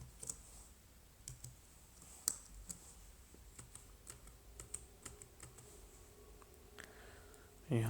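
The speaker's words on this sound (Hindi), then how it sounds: "यहाँ पे लॉगिन के ऊपर क्लिक करते हैं" Sparse sharp clicks from a computer mouse, interspersed with light keyboard taps, come at an irregular pace while a trading account is logged into on a computer.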